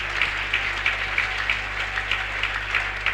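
A church congregation applauds for Jesus during a French-language service, with steady, moderately loud clapping that pulses in regular rhythmic bursts throughout, with no talking.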